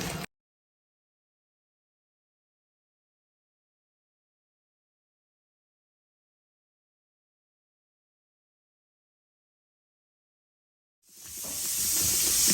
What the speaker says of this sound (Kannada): ಇವಾಗ ಇದಕ್ಕೆ ಜಿಂಜರ್ ಗಾರ್ಲಿಕ್ ಪೇಸ್ಟನ್ನು ಹಾಕೋಣ